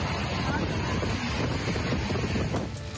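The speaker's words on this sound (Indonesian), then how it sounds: "Hujan deras disertai angin kencang melanda Kabupaten Maros, Sulawesi Selatan." Strong wind with heavy rain lashing Maros Regency, South Sulawesi, a dense, loud, continuous roar of gusts and rainfall close to the microphone throughout, shifting slightly near the end.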